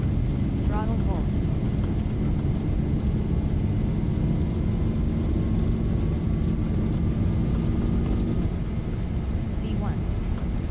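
Steady, loud jet roar from Boeing 737 engines at takeoff thrust in the X-Plane Zibo mod simulator, continuous broadband rumble with a faint high whine, and a brief spoken voice over the top.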